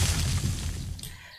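An explosive plant trap detonates in the farming game GMO Farming, a single loud, deep boom that starts at full force and gradually dies away.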